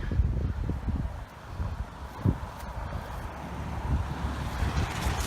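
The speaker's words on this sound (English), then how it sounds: "it's a very windy day" Steady wind rumbles and buffets across the microphone, a dense low roar with gusty swells throughout and no voices.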